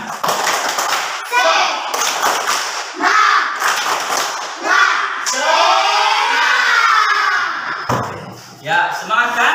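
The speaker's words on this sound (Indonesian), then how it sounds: "Yuk, mari kita tepuk semangat dulu." Indonesian schoolchildren in a religious education class clap and chant a rhythmic tepuk semangat together, loud and close, the claps forming bursts in time with the group voices.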